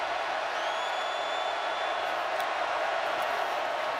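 A football stadium crowd at a college game between Georgia and South Carolina gives a steady, loud, broad roar that holds evenly for a few seconds without letting up.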